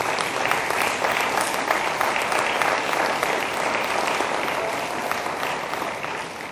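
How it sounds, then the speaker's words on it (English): Sustained applause from a synagogue audience at an interfaith talk, a dense, steady wash of many hands clapping at close range that fades slightly toward the end. "so that we can applaud you for your work"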